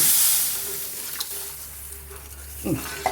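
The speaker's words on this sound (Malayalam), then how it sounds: "എന്നിട്ട് നമുക്ക് വെള്ളം ഒഴിക്കാം, വേകാനുള്ള വെള്ളം, കുറച്ച് വെള്ളം" Water is poured into a pan of fish curry, a brief splash and hiss near the mic that fades into a quieter simmer.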